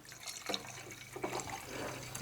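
A boric acid and denatured alcohol solution is poured into a jar, giving a soft, continuous trickling and splashing of liquid, close but quiet, with no one talking.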